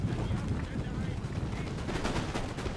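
Musket volleys in the Napoleon: Total War video game, a continuous crackling barrage of many overlapping shots that stays loud and dense throughout, with a few sharper reports near the end.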